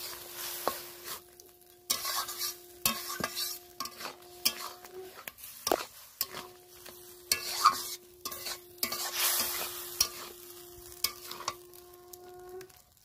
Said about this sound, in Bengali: কচু পালং শাকটা ঢেলে দিলাম, ভালো করে নেড়ে নেব।